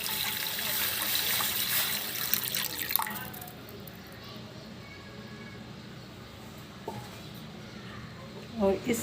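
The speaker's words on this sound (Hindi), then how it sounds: "यहाँ पर एक कढ़ाई में हम 2 गिलास पानी लेंगे।" Two glasses of water poured into a kadhai for cooking khichdi: a steady splashing pour for about three seconds, then quieter handling with a few small clinks and knocks.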